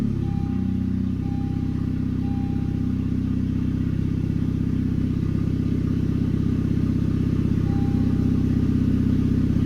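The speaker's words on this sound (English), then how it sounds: "So we're gonna start the car, throw it in neutral, and make sure the wheel is centered." A car idles in neutral at home while its wheel is straightened for a stance-car alignment, a steady, loud low engine rumble holding even for nearly ten seconds, with a faint intermittent whine above it and no talk.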